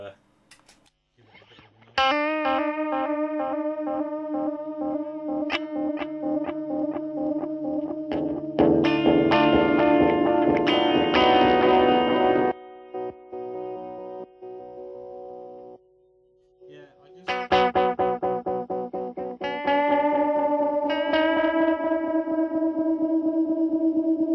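Distorted, echoing electronic tones from a T-Rex Replica delay pedal oscillating repeat and swell in bursts, with warbling feedback-like oscillation cutting out abruptly, then returning.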